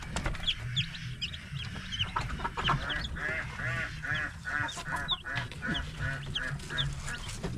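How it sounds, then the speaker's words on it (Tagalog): Pet ducks kept by a hut near a rice paddy give repeated quacks and honking calls, several birds near and close together, with scattered clucking and no talk over them. "Habol naman ni Caleb yung mga bibi dito."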